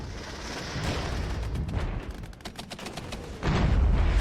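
Cluster bomb strikes in the Regiments wartime strategy game, a steady rumble of scattered popping detonations and crackling blasts, fairly distant, swelling into a heavier roar near the end.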